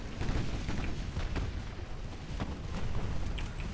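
Torpedo hits explode in a naval video game, a dense run of booming blasts and rumbling impacts that is continuous and fairly loud, with no talk over it.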